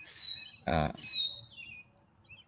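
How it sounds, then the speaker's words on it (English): A red-winged blackbird sings outdoors: sharp whistled notes sliding downward, broken by a brief buzzy burst in the middle, then another falling whistle, fairly close, with no talking. "Listen to that. That's the red-winged blackbird."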